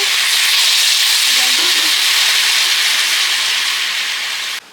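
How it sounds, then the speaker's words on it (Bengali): Water hits hot oil with fried spices and turmeric in a pan, producing a loud, continuous hissing sizzle that holds steady and then cuts off abruptly. "জল দিয়ে দেবো জল দিয়ে দিচ্ছি একটু"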